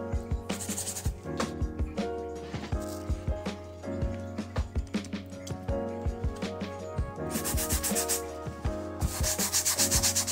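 A brush scrubs a Jordan 1 sneaker with an all-purpose cleaner, making rapid, steady, close rubbing strokes that continue without pause and grow harsher toward the end.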